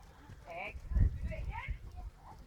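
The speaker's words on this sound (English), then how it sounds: "The white one's a lovely old horse" Hooves of an old white horse clip-clop at the Los Pinos Verdes riding school in Lajares, Fuerteventura, soft thuds beneath a person talking nearby.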